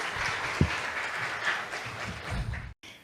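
An audience gives a speaker a welcoming round of applause, a soft, fairly distant patter of clapping with a low thump early on, fading out and cutting off abruptly near the end.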